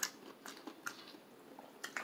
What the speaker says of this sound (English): Crunchy.